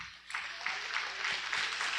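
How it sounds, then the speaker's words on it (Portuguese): A church congregation applauding the Lord during a lively Pentecostal sermon, steady, dense clapping that swells after a brief lull and holds at a moderate, somewhat distant level. "Aplauda bem forte ao Senhor"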